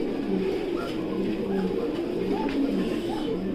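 Fancy pigeons coo at a pigeon farm, several soft, rolling, repeated coos overlapping near the listener against a steady background murmur, with no clear talk.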